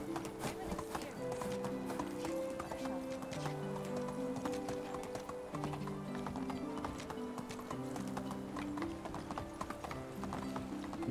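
Donkey hooves clatter in a rapid, steady galloping rhythm in the video game Medieval Dynasty, loud and close, with a repeating mechanical clicking alongside and no speech over it.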